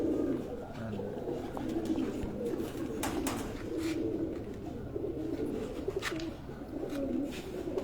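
A breeder pigeon coos in soft, repeated low phrases that run steadily from start to finish, with a few faint chirps above and no talk over it.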